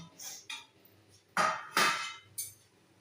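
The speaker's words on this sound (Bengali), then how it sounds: "এবার আমি ঢাকনাটা খুলবো।" A pot lid is lifted off a steaming pot of chicken rolls: a few metallic clanks and scrapes, then short bursts of hissing steam, close by and fairly quiet, with no talking.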